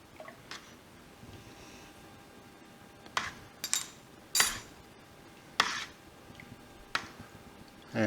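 Spoon clinking against a pot while stirring an additive into milk for homemade Cotswold cheese, a handful of sharp metallic taps spaced irregularly over a quiet background.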